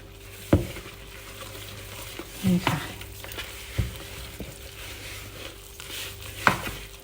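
Bread dough batter for sausage buns is slowly stirred and folded in a bowl, making soft, wet squelching strokes with a few sharper knocks of the spoon against the bowl, spaced out over a quiet background.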